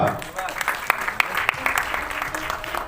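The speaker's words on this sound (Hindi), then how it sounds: "क्या बात, तालियां" Audience applause at a Hindi stage program, a moderate patter of claps with a few sharp hand strikes standing out, blended with a voice speaking over it throughout.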